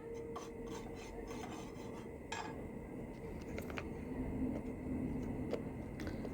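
Turmeric powder being stirred and dry-roasted on a tawa over low heat, soft rasping scrapes of a spoon across the pan, a few faint clicks, and a low steady background murmur.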